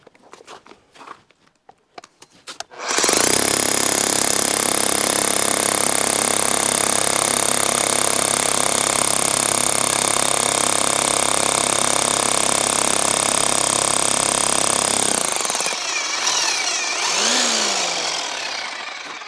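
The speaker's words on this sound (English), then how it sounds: "This is the Bosch hammer drill. It's the large version, it's 10 amp, so it should have no problems going through this concrete right here." A large 10 amp Bosch hammer drill bores into concrete with a loud, continuous hammering roar. It runs steadily for about twelve seconds, preceded by a few handling knocks and followed by winding down and scraping.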